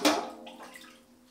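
A natural dye bath for a secondhand cashmere jumper gets stirred, a short watery slosh that fades over about a second, close and moderately quiet.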